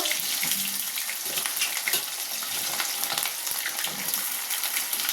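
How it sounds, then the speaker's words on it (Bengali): Potato and pumpkin pieces dropped into hot oil with leftover water, spattering and crackling in a dense, bright sizzle with irregular pops, close and loud. "আর এখন এই দেখো তেলের মধ্যে আমি দিয়ে দেবো আলু কুমড়োগুলো, ছেড়ে দেবো। বাবা, গরম তেল এখন ছিটকে আসছে"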